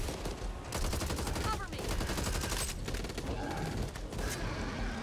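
A powerful gun in the zombie shooter Back 4 Blood fires loud, rapid shots in a near-continuous stream, with a voice briefly speaking over the barrage.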